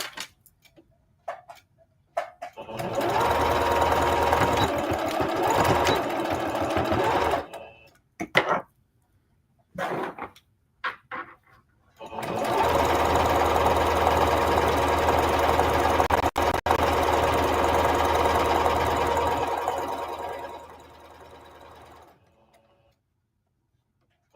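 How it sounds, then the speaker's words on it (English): A sewing machine stitching around a pocket on fabric, running in two long rapid bursts of fast mechanical ticking, separated by short pauses and scattered handling clicks, close and loud with no talk. "I'm going to sew all the way around my pocket"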